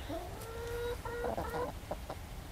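Hens inside a snowy-day coop cluck and murmur in a short, close series of rising and falling calls over low background noise.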